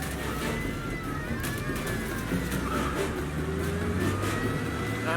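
Car engine in the Mafia Definitive Edition video game revving steadily as the car drives fast, a continuous loud mid-pitched drone with rising and falling engine tones and no talk.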